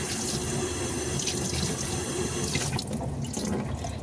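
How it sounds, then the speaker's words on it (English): Warm water runs from a kitchen tap while a dish is rinsed under it, a steady close splashing hiss that shifts a little toward the end, with no voices. "we rinse it with warm water"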